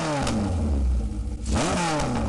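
Suzuki GS850G motorcycle with its 843 cc engine, revving loudly and close up: a steady rumbling tone dips briefly, then climbs sharply as the throttle opens, with no voices present.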